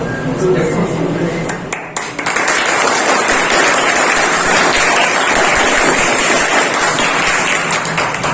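An audience at a 15 August Independence Day gathering at a study center breaks into loud, dense applause after a brief pause, the clapping building into a steady, rain-like roar that carries on to the end.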